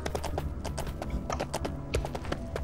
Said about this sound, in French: c'est tellement fun de pouvoir se balader à cheval dans les plaines du Rohan